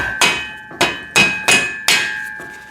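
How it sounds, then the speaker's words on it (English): A rubber mallet taps a bushing into place while a pec deck and rear delt home gym machine is assembled: five sharp, close knocks at an uneven pace, each ringing briefly with a metallic tone. "Rubber mallet I was telling you about before."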